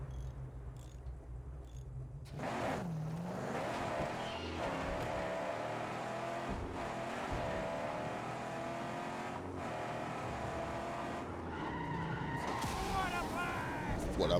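A car engine drones and revs continuously with tires skidding in the Mad Max video game, loud and close, with slight shifts in pitch as the vehicle maneuvers.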